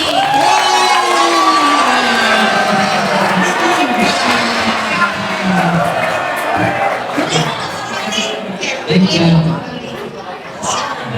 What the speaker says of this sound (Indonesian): Tepuk tangan untuk Kang Zaki.